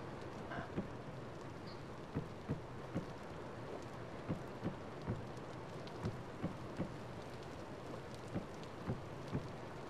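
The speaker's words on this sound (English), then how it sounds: "I'm trying to get you cover from the rain" Steady rain falls in the video game Vintage Story, a constant dense hiss with faint, regularly spaced ticks and low rumbles throughout.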